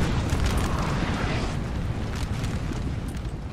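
Artillery shelling a house in the Napoleonic Total War 3 battle game, heard as a continuous loud rumble of booms and blasts with no clear gaps.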